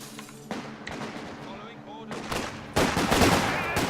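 Machine guns lay down suppression fire in Company of Heroes 2, with rapid bursts of gunfire crackling over a low battlefield rumble and growing heavier toward the end, while someone talks over the action.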